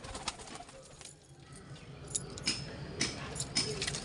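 Soft, low pigeon coos sound faintly among scattered rustles and light metallic clinks, with a quiet background.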